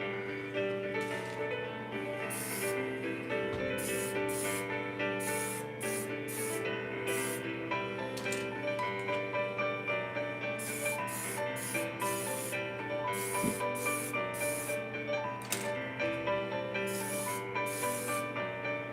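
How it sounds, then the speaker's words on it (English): Hairspray hisses from an aerosol can onto a Sherman tank scale model in a series of short, close bursts, mostly a second or less each, with pauses between them over a steady background hum. "We're going to spray this with hairspray."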